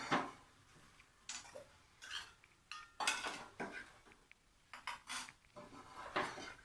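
Metal and glass clinks and taps from mixing South Indian filter coffee decoction with milk in a tumbler, a string of short, irregular clatters close by with quiet pauses between, no talking.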